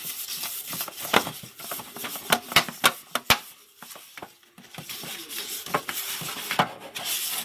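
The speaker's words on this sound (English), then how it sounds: "Grease the sides as well" Butter being rubbed around the base and sides of a cake tin for a white chocolate cheesecake, an irregular close-up rubbing and scraping with scattered light knocks and clicks against the tin.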